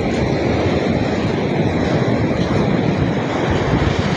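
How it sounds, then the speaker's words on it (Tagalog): Rough, choppy sea under strong wind, a steady loud wash of surf and gusting air with no distinct individual wave breaks, continuous throughout with no talking. "Maalon po yung karagatan ngayon."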